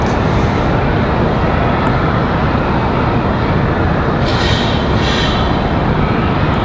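A Breeze Airways airliner arriving from Los Angeles at Raleigh-Durham International Airport at night roars as a loud, steady broadband engine rush that fills the whole stretch, with no talk over it.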